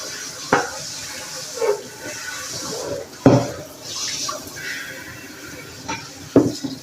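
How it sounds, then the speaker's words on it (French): Running tap water rinses sprouting seeds, a soft continuous hiss and splash at moderate distance, with a few sharper knocks and splashes from handling a container mixed in. "donc maintenant l'eau elle est un peu sale ici, je vais la rincer."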